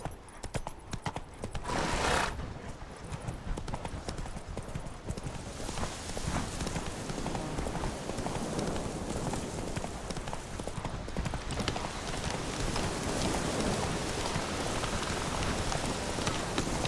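Roach, the horse in The Witcher 3, gallops in a steady rapid clip-clop of hooves under falling rain, the hoofbeats close and continuous, with game music faintly behind.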